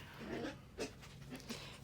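A dog pants in quick, soft breaths close by, with a few short louder huffs scattered through the clip.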